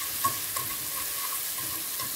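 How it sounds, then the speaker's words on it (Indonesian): Shrimp sauté in a pan with salt, ground coriander and a little lemon juice, a steady moderate sizzle with faint periodic stirring clicks throughout. "Kemudian, masukkan udang, lalu beri seasoning garam, ketumbar bubuk, dan sedikit air jeruk lemon. Tumis sampai matang"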